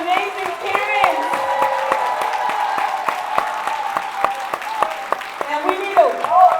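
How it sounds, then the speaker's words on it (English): Graduation celebration audience at Big Brothers Big Sisters of Metro Atlanta applauds the parents, a steady wash of claps with some cheering from a crowd, mixed with voices over the top. "We need another round of applause for the parents"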